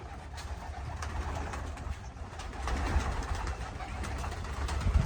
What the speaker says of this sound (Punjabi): ਸਾਰੇ ਕਬੂਤਰ ਆ ਗਏ ਆਪਣੇ ਦਾਣੇ ਤੇ